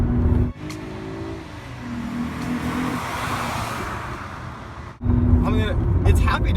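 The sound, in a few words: Mercedes-Benz C230 W203 engine revving at high RPM in fourth gear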